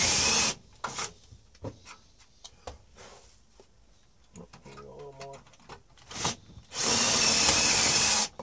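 A drill bit bores holes in a computer case panel, with two loud sustained whining bursts at the start and end and scattered clicks, handling noises and faint talk in between.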